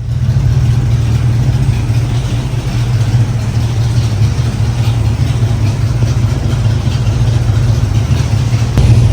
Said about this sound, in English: just listen to that V8 burble away